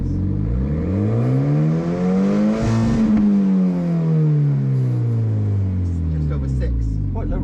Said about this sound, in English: Let's see what the rev limit is.